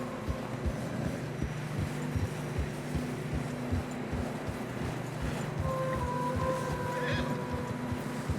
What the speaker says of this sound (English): Horses are struggling